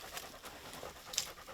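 Tracking dogs pant in quick, breathy bursts at close range while trailing a wounded bear through the woods, with no talk over them.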